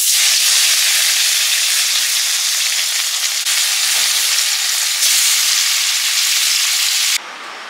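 Bhola fish pieces frying in hot oil make a loud, dense, continuous hiss and crackle up close, holding steady for several seconds before suddenly dropping to a quieter sizzle near the end.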